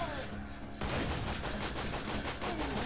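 Enemy gunfire in the video game Borderlands 2: a dense, continuous volley of rapid shots after a brief quieter lead-in, loud and sustained across the clip with busy combat noise beneath.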